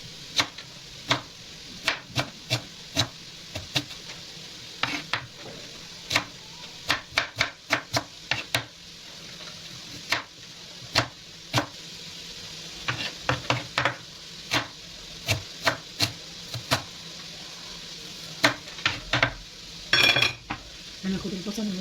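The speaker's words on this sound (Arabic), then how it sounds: "البصل زي ما انتم شايفين، هقطعه مربعات" A knife chops onion into large cubes on a board in a run of crisp, close, fairly regular strokes with brief pauses, over a low kitchen background hiss.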